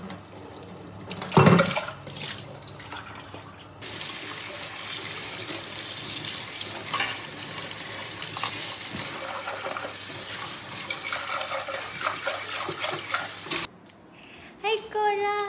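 Water runs steadily from a tap for a wash before a pink guava drink is made, a close, continuous rushing stream that cuts off near the end, followed by brief clattering.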